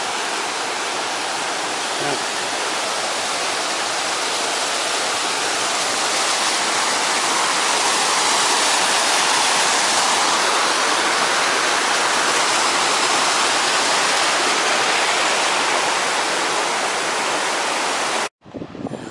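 Rapids on the River Dee near the Pontcysyllte Aqueduct rush in a loud, steady broadband roar of churning water, close and continuous, with no talk over it, cutting off abruptly near the end.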